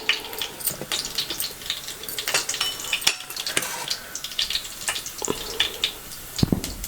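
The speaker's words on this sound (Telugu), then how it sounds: "నూనె వేడెక్కింది జీలకర్ర ఆవాలు మినపగుళ్ళు వేసుకున్నాం" Cumin, mustard seeds and urad dal crackle and sizzle in hot oil with scattered sharp pops over a steady frying hiss, close and moderately loud, no talking.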